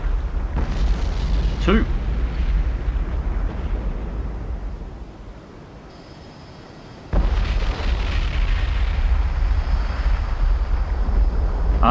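Missile hits explode on enemy ships in a Cold Waters submarine game, a loud rumbling boom and roar that cuts off, then returns as a heavy sustained rumble, with a brief spoken word.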